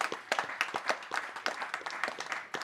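Applause from a conference audience, with a patchy burst of individual claps, moderately close, lasting a few seconds with no talk.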